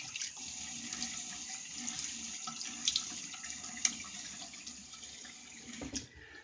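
Tap water runs steadily into a sink for wetting the face before a shave, a soft continuous hiss with a few faint splashes and clinks.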